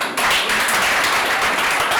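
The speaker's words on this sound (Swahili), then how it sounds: "Tupige makofi mengi sana." An audience at a district government meeting in Ruangwa claps in a dense, continuous burst of applause, close and loud throughout.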